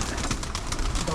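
Pigeons kept by a breeder cooing in a short burst, soft repeated coos close by with a person talking over them.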